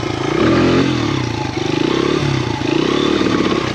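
A small motorcycle engine revs loudly and close up in rising and falling bursts while a rider practices wheelies, with some clatter and no voices.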